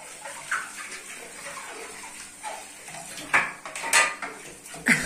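Dishes and cutlery clink and clatter as a finished dishwasher is unloaded in a home kitchen, with sharp bursts near the end over a soft background hiss.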